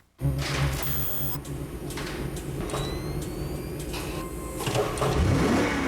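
A 375-horsepower Hyundai Genesis engine in a TV commercial starts abruptly and then revs in strong, rising surges, with a deeper swell of acceleration near the end.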